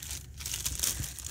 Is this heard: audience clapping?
no